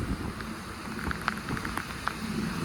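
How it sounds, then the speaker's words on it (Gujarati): Heavy monsoon rain pours steadily on the way to an aerodrome in Gujarat, a dense continuous hiss with scattered sharper drop taps, fairly loud and constant with no voices. "ભાઈ વરસાદ ધોળમધાર પડે છે મિત્રો"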